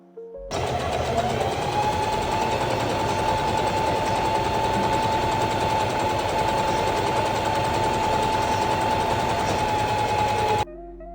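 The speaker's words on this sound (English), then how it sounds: "So now I've done the top stitch all the way along both sides, all the way along the top of my corset." A sewing machine running steadily while top stitching along the edges of a homemade corset, a continuous whirring drone with a fast rhythmic needle chatter and a steady hum, close and even, starting and stopping abruptly with no talking.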